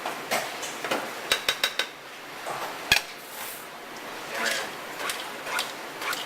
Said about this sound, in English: Now at this point we're only going to mix until it's just incorporated.